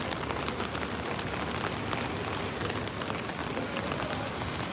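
Pouring rain on an Edinburgh street, a dense, steady hiss of drops hitting surfaces that fills the whole stretch at an even loudness, with no voices rising above it.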